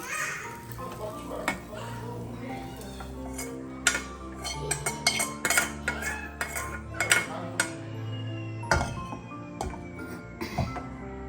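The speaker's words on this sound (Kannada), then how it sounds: "ಸೊ ನನಗೆ ಇದನ್ನು ಪ್ಲೇಟಿಗೆ ಶಿಫ್ಟ್ ಮಾಡ್ಕೊಳ್ತಾ ಇದ್ದೀನಿ" Fried food is moved from a pan onto a plate with clinks and scrapes of utensils on cookware, close and intermittent, under steady talking.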